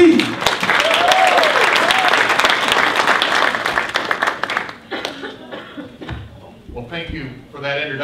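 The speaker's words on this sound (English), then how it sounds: "let's have a hand for the RNC." An audience at an RNC Latino voter outreach event gives a hearty round of applause, mixed with some laughter. The clapping fades after about five seconds, and a speaker's voice then takes over.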